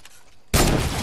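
One loud gunshot in the Fortnite video game cracks out midway and is followed by a sustained burst of noise, close and dominant, with no talking.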